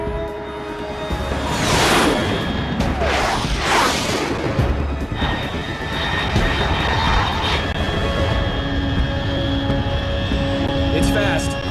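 A fast aircraft in the video game Metal Gear Solid 3 roars and whooshes past in loud rushing swells, with a low engine rumble and tonal whine lingering afterward, heard under talk.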